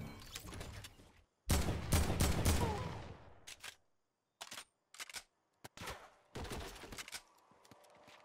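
Bursts of submachine-gun fire in the Fortnite video game, a long rapid volley followed by several short, sharp staccato bursts separated by silences, loud and close.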